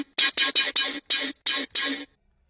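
Low note on a synthesized bass, played as seven loud, clipped, buzzy pulses in an uneven rhythm, then cut off into silence.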